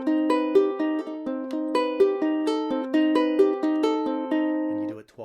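Ukulele picking a steady 12/8 passage in repeating groups of three notes, bright plucked tones ringing close and clear with no talking, ending on a softer low note.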